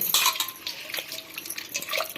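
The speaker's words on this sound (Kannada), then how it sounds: "ಇನ್ನೂ ಸ್ವಲ್ಪ ನೀರು ಹಾಕ್ಬಿಟ್ಟು ಕಿವುಚ್ಕೊಳ್ಳೋಣ." Tamarind squeezed by hand in water in a kitchen bowl for pepper rasam, giving a run of wet squelching, sloshing and splashing with light clinks of the vessel, fairly close and steady throughout.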